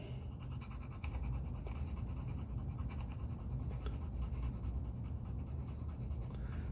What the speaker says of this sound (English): I'm coloring with the side of my colored pencil.